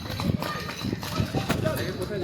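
Horse-drawn cart in Murshidabad, its horse's hooves clip-clopping in an uneven rhythm up close, heard under ongoing conversation from passengers riding on board.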